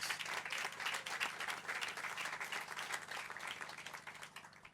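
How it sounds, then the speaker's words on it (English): Crowd applauding elected officials at an outdoor housing groundbreaking in Louisville, a steady wash of many hands clapping at moderate distance, easing off slightly near the end. "let's just give a round of applause to all the elected officials who took the time to come and share with us this moment today"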